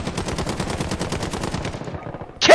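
Rapid automatic gunfire in Call of Duty: Warzone, a battle royale shooter, rattles in a steady burst of close shots for about two seconds, then cuts off before a sharp loud crack at the end.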